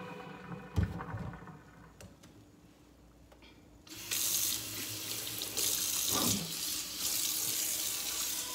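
Tap water splashes into a sink while a synthetic wig is washed. After a few quiet seconds with light handling noises, the faucet opens and a loud, steady rush of running water fills the rest of the clip.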